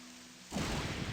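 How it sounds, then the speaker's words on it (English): In a video game, a sudden wash of dense, steady rain noise sweeps in halfway through as a storm arrives, replacing a quiet hum and continuing as a close, hissing downpour. "Yes, it did get stormy and cloudy all of a sudden. Now it's raining."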